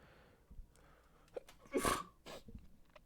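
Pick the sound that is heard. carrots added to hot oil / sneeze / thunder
sneeze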